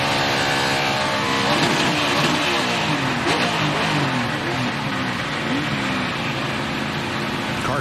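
A NASCAR race car engine roars and revs at a race in Kentucky after jumping out of fourth gear, loud and continuous with rising and falling pitch, under crowd and track noise.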